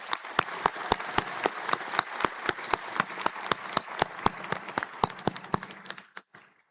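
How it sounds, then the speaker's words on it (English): A commencement ceremony audience applauds the staff at a graduate school of management event, with a close, prominent single clapper beating a steady rhythm over softer crowd clapping that tapers off at the end. "Please join us in a round of applause to thank all of our staff."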